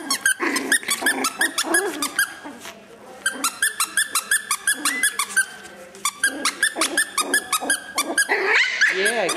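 Three Papillon puppies play together, giving off a steady string of small growls, squeaks and high yips, close and fairly loud, with a brief quieter patch midway and no talk over them.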